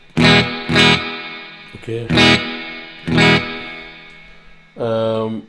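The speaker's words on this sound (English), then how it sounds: "we can have the amp reverb, and it sounds like this." Electric guitar chords played through AmpliTube 4 amp reverb, struck in short bursts with a distorted, reverberant amp tone ringing out between hits; a voice speaks briefly.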